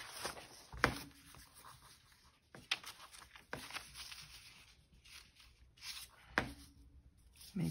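Scissors snipping paper pieces for journal pages, quiet and close, with scattered crisp cuts and rustles separated by pauses.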